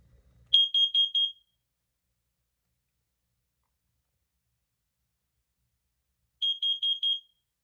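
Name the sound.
carbon monoxide alarm sounding on a demo board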